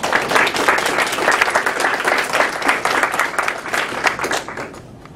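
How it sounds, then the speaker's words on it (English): Audience applause for book authors at a publishing event, a dense, steady wash of many hands clapping throughout at close to moderate distance, holding level for about five seconds before easing slightly at the end. "I think there's one more round of applause for all the authors and wisdom."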